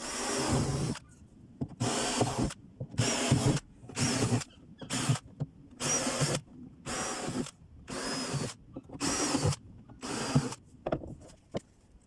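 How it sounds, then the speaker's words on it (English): A power drill bores holes through a boat hatch for its securing bolts, about ten loud whirring bursts in a regular start-stop rhythm with brief pauses between, close up and without talk. "Then I was able to mark and drill the holes for the securing bolts to go through."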